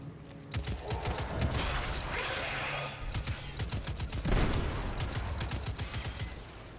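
Gunfire in the PC shooter game Destiny 2, dense bursts of shots in quick succession over a busy game soundscape, close and loud, no talking.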